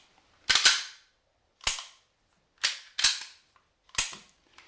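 Racking the slide of a new, unoiled Canik TP9 SFX pistol on a tabletop: five crisp metallic clacks in uneven succession, the middle ones close together, each sharp and up close with nothing else around them.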